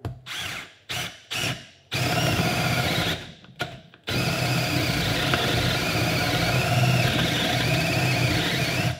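A Milwaukee M12 FUEL cordless drill revs in several short bursts, then runs continuously under load as a 1-inch spade bit bores into wood, whining and slightly bogging down.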